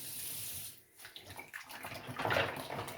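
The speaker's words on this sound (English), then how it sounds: "add some dishwashing liquid and some water" Clear acrylic stamp blocks being washed in a sink with dishwashing liquid and running water, a splashing, gurgling flow that swells toward the end.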